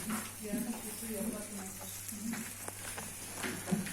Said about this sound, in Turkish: Bu da kızarmaya devam ediyor.